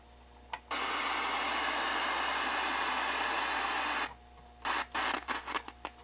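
A 1970s GE 13-inch black-and-white TV tuned to an empty UHF channel hisses with loud, steady static for several seconds, then cuts to low hum with short, choppy bursts of static as the tuning changes.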